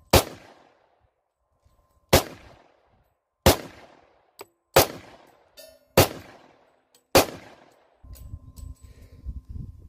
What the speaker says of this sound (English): First shots, not too bad. Kick was not near as bad as I thought it was going to be.